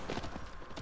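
Horse hooves clip-clop in the video game Shadow of the Colossus, quick rhythmic thuds close and fairly loud, several steps in under a second, without speech.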